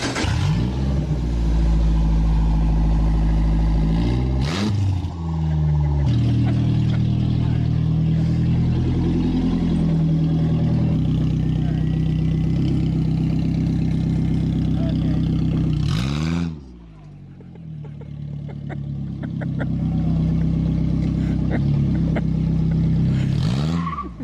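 A Cummins diesel-swapped Chevrolet Silverado truck drives in sport mode, its engine droning loud and steady as it holds gears, with two brief shift dips, under occasional talk.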